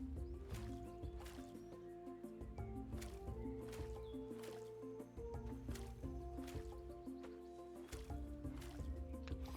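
Watering a freshly planted crop in the farming game Roots of Pacha, soft repeated liquid splashes and drips at regular intervals over steady game music, no talk.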